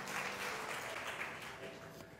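A church congregation at an Indonesian worship service claps in steady, dense applause that fades slightly toward the end, sounding moderately distant.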